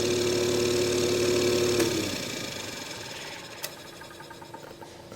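A Jenny air compressor's engine drones steadily and loudly up close, then is shut off and winds down over a second into near quiet, leaving a few small clicks and ticks.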